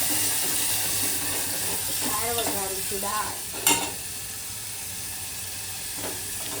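Tempering for dal crackles in a pot, a loud, continuous close sizzle and hiss with a brief, faint voice partway through and a sharp clink near the middle.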